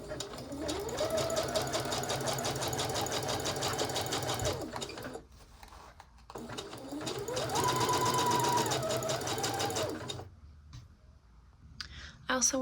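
A sewing machine runs a loose zigzag stitch around the periphery of a dress cup, tacking it in place, in two long steady bursts of rapid rhythmic needle chatter separated by short pauses, close and fairly loud.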